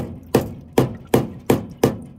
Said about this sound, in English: I take a little rubber hammer and I, I do like this a few times